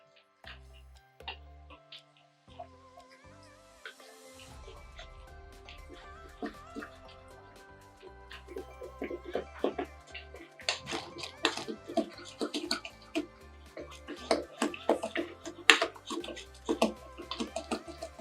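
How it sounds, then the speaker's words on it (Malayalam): Moong dal pakora batter with spices is mixed by hand, starting with a few soft low thumps, then quiet wet squelches and clicks that grow busier and louder toward the end. "നല്ലപോലെ ഒരു 3-4 മിനിറ്റ് നന്നായിട്ട് മിക്സ് ചെയ്തെടുക്കാം."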